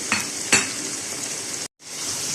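Tinda and onion with salt, chili and spices being stirred in a frying pan: steady loud sizzling with two sharp scraping strokes of a spoon early on and a brief gap near the end.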